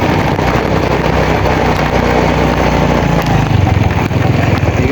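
A motorcycle ride heard up close, with a loud, constant engine rumble and rushing road and wind noise, and a slight change in the engine's pulse toward the end.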